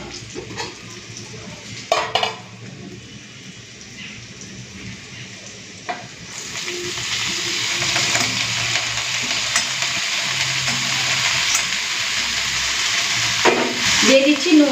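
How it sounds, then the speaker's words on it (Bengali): Chopped greens hit a pan of lightly fried garlic and onion. A few clanks of utensils come first, then a loud, steady sizzle swells and holds, with occasional stirring scrapes. "এখন দিয়ে দিচ্ছি কেটে রাখা শাকগুলো।"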